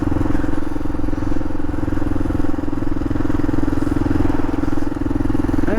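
Kawasaki KLR 650 motorcycle engine running loud and close with a steady, pulsing rumble while riding, holding an even pitch with no talk over it.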